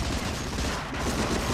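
Dense, close bursts of World War II gunfire from Medal of Honor: Frontline crackle loud and continuous, with rapid overlapping shots and no pause.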